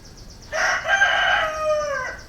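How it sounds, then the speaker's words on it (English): A rooster crows once just outside a door, a single drawn-out, fairly close call lasting about a second and a half against a quiet background, with no talking. "and the rooster outside the door."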